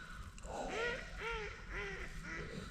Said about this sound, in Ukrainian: качки гавкають.